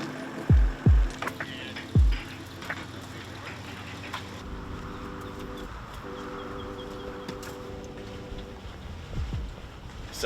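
A new Platinum 23 boat runs far offshore from Lakes Entrance, with a few low thumps at the start, then a steady, droning outboard engine hum that continues to the end.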